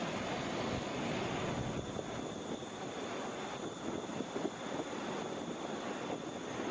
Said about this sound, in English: This is American Airlines Flight 2039, coming from Chicago O'Hare, touching down a little over 20 minutes early.